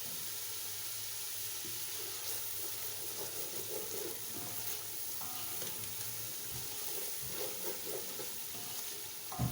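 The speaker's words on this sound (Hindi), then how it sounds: "अच्छी तरह इसको थोड़े से 1 से 2 मिनट और भून लेते हैं" Masala for a chana eggs dish fries steadily in a pan, a dense, continuous sizzle with faint stirring scrapes running through it and no talk.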